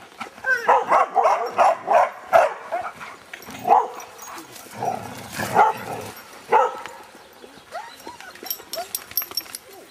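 Family dogs bark and yip in quick bursts while playing outdoors, sharp clustered barks near the start and then sporadic yelps and whimpers with pauses between.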